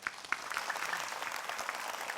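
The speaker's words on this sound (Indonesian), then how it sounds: "Tepuk tangan dong" Audience applause at a televised Islamic religious program in Indonesia, steady clapping from a crowd lasting a couple of seconds, fairly close and even, with no talk over it.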